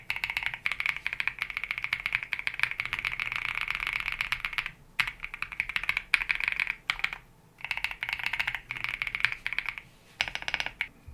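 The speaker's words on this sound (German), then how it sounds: "noch einen kleinen Soundtest im Keyboard" Typing on a mechanical keyboard fitted with MMD Princess switches, smooth and fairly quiet, sounds as a steady, close run of rapid keystrokes with a few brief pauses and short bursts toward the end.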